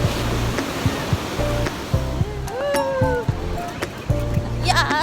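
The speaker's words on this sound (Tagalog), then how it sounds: "Natakot kami sa alon." Ocean surf crashing on the beach at Baler, Aurora, a steady loud roar of breaking waves with people's voices and excited shouts mixed in throughout.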